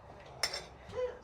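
Brief clinks of a utensil against a bowl while chopped onion is mixed with sumac, a sharp single tap followed by softer scraping, close and quiet.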